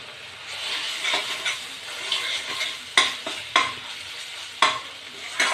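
Potatoes fry in oil with ground coriander, cumin and red chilli powder, sizzling up close while a spatula scrapes and stirs the pan in sharp, repeated strokes.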